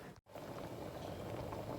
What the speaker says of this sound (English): our dish is boiling